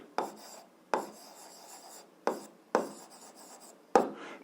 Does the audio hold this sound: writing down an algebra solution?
yes